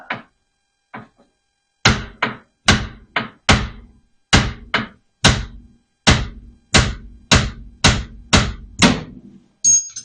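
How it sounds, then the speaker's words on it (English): Sharp metallic brass hammer strikes on the steering rack of a hot rod Model A, a couple of light taps then a steady series of about fifteen solid blows, close by with short gaps between. "Let's see if we can hammer this out with this brass hammer."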